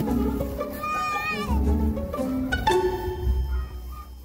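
Fainting goats bleat loudly and repeatedly, their wavering cries overlapping one another close by, with some rustling and faint background commotion.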